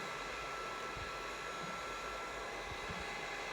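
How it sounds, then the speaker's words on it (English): A heat gun blows continuously in a workshop while plastic is shaped for a worktable sawmill blade guard, a steady loud airy roar with a few faint low knocks beneath. "Okay, so just using the heat gun here."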